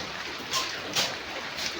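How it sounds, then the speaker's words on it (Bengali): Rain falls outside a home during a sudden shower: a soft, steady hiss with a few slightly louder gusts of patter, fairly faint and with no voices. "বৃষ্টিটা পড়ছে"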